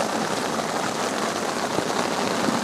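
Rain drumming on a Dhaulagiri Terra Pro 4 camping tent, a dense, continuous hiss of drops pattering on the fabric, steady and close throughout with no talk.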